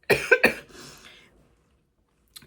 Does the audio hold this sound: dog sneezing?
no